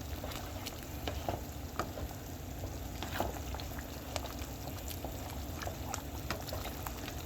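Food being stirred in a pot with a plastic spatula while preparing a KFC-style famous bowl, a steady sizzle and bubbling bed with soft scraping strokes and small clicks scattered throughout.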